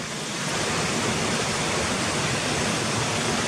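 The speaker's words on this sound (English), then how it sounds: "It's nice where these waterfalls are coming down, look." Waterfalls pour down into a valley, a loud, steady broadband rush of falling water that fills the whole clip without a break, close and alone.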